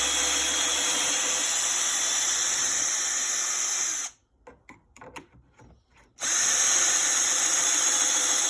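A Ryobi power drill bores holes in wood, whirring loud and continuous, pausing for about two seconds with faint scraping, then grinding on again at full speed.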